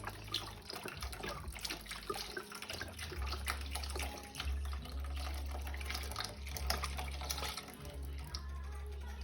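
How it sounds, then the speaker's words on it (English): Chicken stock poured into a pot of rice, a steady close liquid rush and splash that runs for several seconds with no talk. "you want to get your chicken stock in there"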